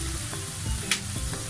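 Stir-frying in a pan seasoned with Japanese oyster sauce: a steady close sizzle with a few scraping stirs and a brief louder hiss partway through, no voices.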